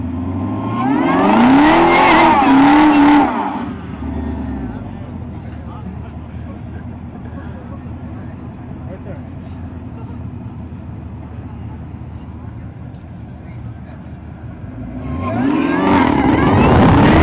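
A supercharged Camaro revs hard and pulls away in a drag race against a Lucid Air EV, with loud engine roar at the start, a quieter stretch of background, then another surge of engine noise near the end, with people talking close by.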